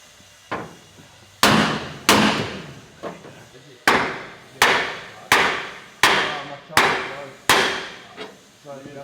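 A big hammer strikes hard metal again and again during Nissan GU Patrol suspension work, about nine sharp, loud, close blows at an uneven pace, each ringing briefly before the next.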